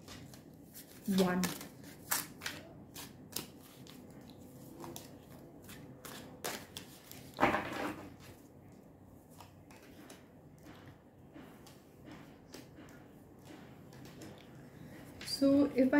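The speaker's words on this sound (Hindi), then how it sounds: "So let's go ahead and start with pulling a few cards for you." Tarot cards are drawn and shuffled at close range in a quiet room, scattered papery flicks and brushes with a couple of louder riffles, while a voice speaks softly in between.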